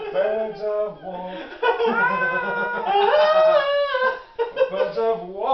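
A person's voice imitates a hawk call with wavering, screechy, cat-like cries, repeated loudly and close over several seconds.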